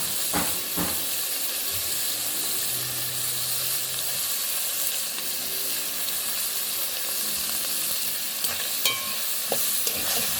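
Fresh garlic cloves frying in a pot for a Jamaican seafood stewed peas, a loud, steady hissing sizzle up close, with occasional spoon clinks and stirring scrapes.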